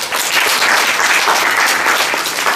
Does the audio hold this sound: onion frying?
no